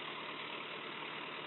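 Shibaura S30A compact tractor engine running steadily, a continuous even idling drone close by, bandlimited and alone without voices.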